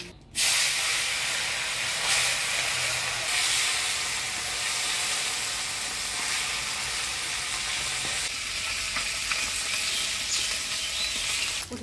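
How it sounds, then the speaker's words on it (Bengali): Small puti fish fry in a pan of hot oil, giving a loud, continuous sizzle and hiss that bursts in suddenly at the start and holds steady with slight crackling, close up and with no talking. "এবারে পুঁটি মাছগুলা ভেজে নিব।"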